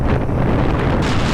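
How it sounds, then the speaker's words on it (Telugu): Strong wind roars and buffets the microphone on a motorbike held at about 60 speed on the ride to Hyderabad, a loud, continuous rush with no talk. "గాలి ఘోరంగా వస్తుంది."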